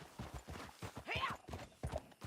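Horse hoofbeats from a ride in the video game Red Dead Redemption 2, a steady rhythmic clip-clop close by, with a faint snort or whinny partway through.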